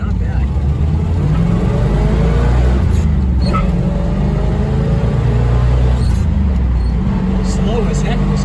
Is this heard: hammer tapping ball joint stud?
no